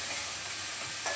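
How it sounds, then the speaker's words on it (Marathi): Capsicum stir-fried in a pan over a high gas flame gives a brief, even sizzle, faint and steady with no voices. "एकदम फास्ट गॅसवर सगळं परतायचं फटाफट"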